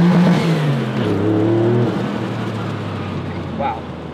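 A twin-turbo Gemballa Extremo RUF accelerates hard, its loud, close engine note climbing in smooth rising harmonics before settling into a steady roar, with some talk over it.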